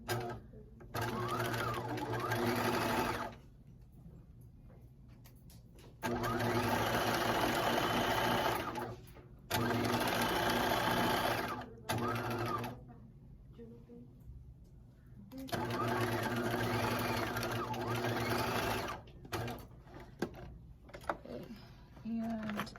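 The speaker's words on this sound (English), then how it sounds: "you're gonna go and stitch your shoulder seams there" A sewing machine stitches the shoulder seams of a fleece pullover, running in long loud steady bursts of rapid mechanical whirring, with quieter pauses in between where a voice can be heard.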